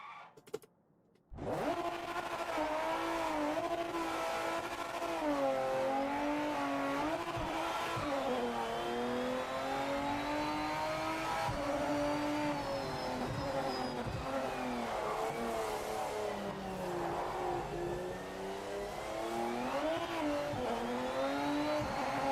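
A race car in the video game Project Motor Racing drives hard, its engine droning loudly and continuously with rising and falling revs and occasional tire squeal, starting abruptly after a brief quiet moment.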